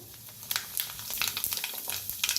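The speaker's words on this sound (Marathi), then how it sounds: "तेल चांगलं गरम झालंय त्याच्यात टाकूया मोहरी अर्धा चमचा अर्धा चमचा जिरं" Mustard seeds and cumin tossed into hot oil, crackling and spitting in rapid irregular pops over a steady sizzle, close and fairly loud.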